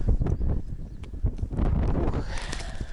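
Strong wind buffets the microphone outdoors in Mongolia near Bayankhongor, a steady rough roar with gusty swells and a few sharp knocks, close and fairly loud throughout with no talking.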